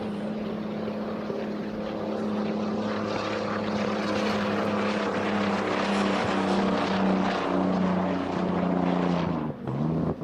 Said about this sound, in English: And Jeff, this particular boat that's out on the water had issues right out of the box.